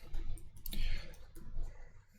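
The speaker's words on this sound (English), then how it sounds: "I've got the microphone right in front of the keyboard, so it's always a nightmare" A computer keyboard sits right in front of the microphone, giving a rapid run of close, crisp key clicks in irregular bursts with no talking.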